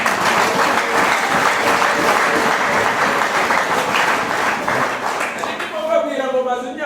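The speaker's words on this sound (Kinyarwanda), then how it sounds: "Mukomereze amashyi." A church congregation applauds at a Rwandan worship service in a dense, even wave of clapping, which thins out near the end as a voice begins to speak.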